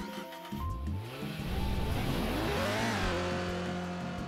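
A car engine in the video game Rocket League revs up, its rising and falling tones climbing into a loud, sustained roar.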